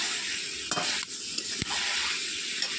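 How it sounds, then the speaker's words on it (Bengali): Spices fry in oil for a poultry chicken curry, a continuous sizzle with several distinct stirring scrapes and taps of the spoon against the pan, close by. "এবার ভালো করে নেড়ে নিচ্ছি"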